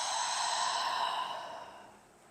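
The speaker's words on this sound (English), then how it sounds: "And exhale out the mouth." Long, soft breath pushed out through the mouth during an outdoor yoga session, a smooth airy exhale that slowly fades away, with no talking.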